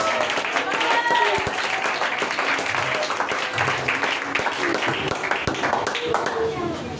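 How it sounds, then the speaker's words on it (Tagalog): A church congregation breaks into sustained applause and scattered clapping during a preaching service, the claps dense and continuous for several seconds while a voice speaks over them. "Palakpak tayo at pagpupuri dahil yan ay pagluwalhati sa Diyos."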